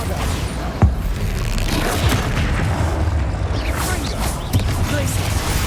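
Bombarda spell explosions go off during a Hogwarts Legacy spell battle: a couple of sharp, punchy booms over a dense, rumbling wash of combat noise.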